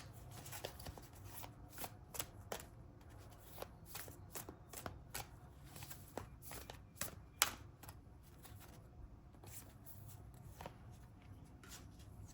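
Oracle cards being shuffled during a tarot-style reading, giving soft, papery flicks and riffles in an irregular stream, close but faint, with no talking.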